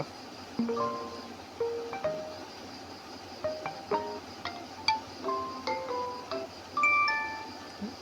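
A bright, tinkling LINE incoming-call ringtone melody of quick plucked notes plays over a faint steady hiss, with light chimes rising and falling in a looping pattern.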